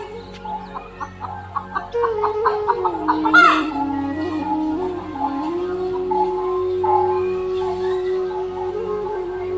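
Chickens, a hen kept with her chicks at a home yard, cluck in a quick run of short close calls, then a drawn-out, wavering squawk that carries on loudly.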